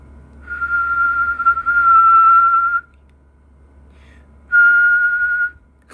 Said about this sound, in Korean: 휘파람도 소리의 밀도를 제가 조절할 수 있어요.